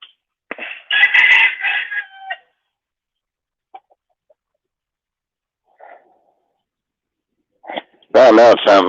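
A rooster crows once, loud and fairly close, in a quiet outdoor setting, followed by a few faint sounds and then a person talking.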